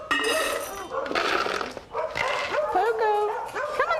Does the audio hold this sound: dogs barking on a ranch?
yes